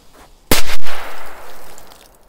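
A firecracker goes off in snow with a sharp, loud bang about half a second in, a second crack right after, then a decaying rumble that fades out over about a second and a half.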